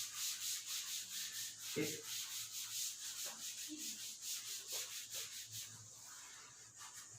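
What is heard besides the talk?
erasing writing from a board by rubbing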